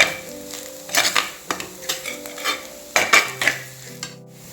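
Grated coconut roasts in a clay pot, a spoon scraping and stirring in repeated strokes over a steady, close sizzle.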